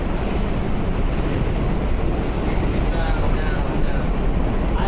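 A train rolls along the rails at Coney Island, a loud continuous rumble and clatter with thin wheel squeal riding above it, steady throughout.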